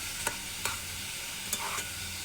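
Gizzard pieces with garlic and onion sizzling steadily in a pan, with a few sharp scrapes of stirring spaced through the steady frying hiss.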